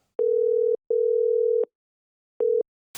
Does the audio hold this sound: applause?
no